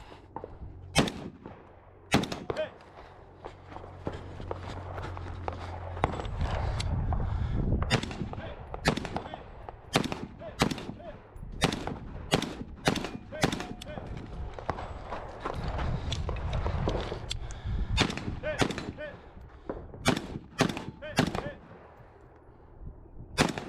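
Rifle shots fired at steel targets on a multigun stage at West End Gun Club, sharp cracks in uneven bursts spread across the stretch, with footsteps and movement between them.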